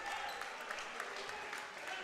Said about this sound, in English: Some applause from the fans